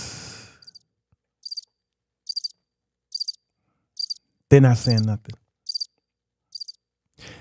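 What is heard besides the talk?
crickets chirping sound effect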